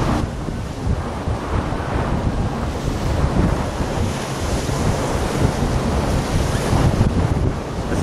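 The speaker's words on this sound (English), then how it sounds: "it's a little bit breezy down here today" Strong wind gusting across the shore at Stokes Bay, roaring steadily into the microphone over the wash of surf, loud and continuous throughout with no voices.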